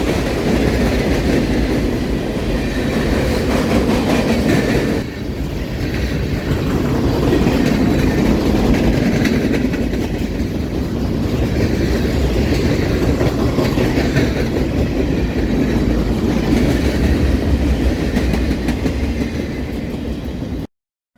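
A freight train led by an SD70ACU locomotive passes close by. It makes a continuous heavy rumble with rhythmic clickety-clack of wheels over rail joints, holding steady for about twenty seconds before cutting off abruptly.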